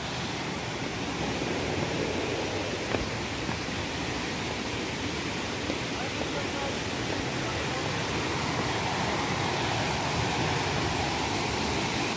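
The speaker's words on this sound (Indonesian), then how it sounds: "Itu air terjunnya." Aling-Aling waterfall in Bali pours in a steady, broad roar of falling water that holds evenly close by, with no pauses or talk over it.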